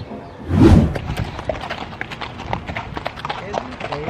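Horse hooves clip-clop in a loose rhythm during a ride, close and clear, with a louder snort or blow near the start and people talking over the steady hoofbeats.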